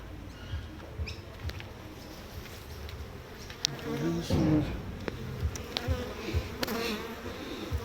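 Honey bees buzzing around an open hive during an inspection of brood and honey frames, a dense close drone with scattered clicks and frame handling noises, no speech.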